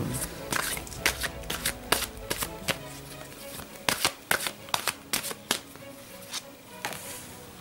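Angel tarot cards are shuffled in quick riffling bursts, a rapid series of crisp papery flicks and taps, fairly quiet and close, with no talk.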